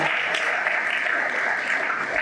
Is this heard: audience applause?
yes